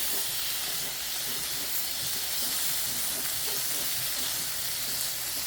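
Hot dogs sizzling in a frying pan while being rolled back and forth, a continuous soft hiss of frying with faint scraping, steady and fairly quiet throughout.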